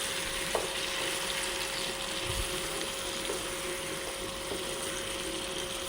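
Tomato and onion paste sizzles steadily in a pan for an egg gravy curry, a continuous soft frying hiss with a few faint clinks, no talking.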